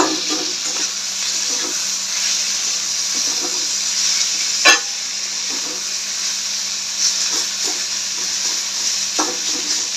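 Steady broadband sizzling of bitter gourd frying slowly over low heat in a pan, with occasional stirring scrapes and one sharp clack midway, no talking.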